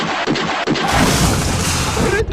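A cartoon cannon fires once with a loud, close boom, followed by a sustained crashing roar. A few sharp knocks come before the blast, and a voice is heard along with it.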